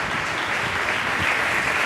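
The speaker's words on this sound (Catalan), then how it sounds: "demano un fort aplaudiment per donar la benvinguda al nostre jurat" An audience claps continuously to welcome the jury at a cooking competition, a dense, even roar of hands with no talk over it.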